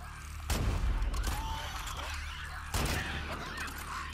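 Two sharp rifle shots ring out in The Last of Us 2, spaced a couple of seconds apart, each followed by a rumbling echo over a low ambient game background.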